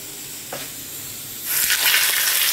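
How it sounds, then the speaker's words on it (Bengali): Fish frying in a hot wok, a steady sizzle that swells louder and brighter midway through, with a soft clink near the start; close and continuous, no talking. "দাঁড়াও আগে মাছটা চাপিয়ে দিই।"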